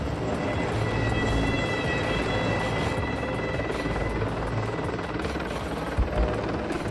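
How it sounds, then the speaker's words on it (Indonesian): A CH-53E Super Stallion heavy-lift military helicopter roars steadily overhead, its rotor and turbine noise forming a loud, continuous wash with a faint whine. "Helikopter ini juga digunakan dalam misi pencarian dan penyelamatan."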